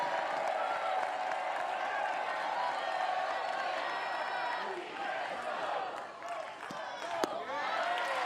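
A college softball crowd at a Florida State versus UCF game cheers and claps in a loud, sustained roar that dips partway through, with a commentator's voice running over it.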